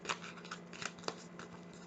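Tarot cards handled and shuffled by hand, with soft papery riffles and several sharper card snaps over a steady low background hum.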